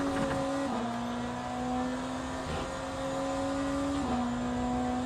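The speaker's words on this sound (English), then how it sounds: "So that Ferrari's coming closer." A Ferrari race car in the Le Mans Ultimate sim racing game, heard as a sustained engine drone whose pitch steps down with gear shifts, steady and loud with no talk.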